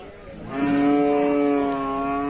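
Cattle at a northern Thai livestock market moo in a long, loud, drawn-out call that swells after a quiet start and holds steady, with faint market background and no talk.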